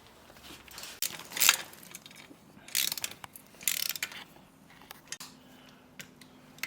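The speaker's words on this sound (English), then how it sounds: "We're just gonna tighten up the headers now." Ratchet tightening the exhaust header bolts on a 2022 KTM Duke 890R, a few bursts of rapid metallic clicking with quiet pauses between, close by and moderately loud.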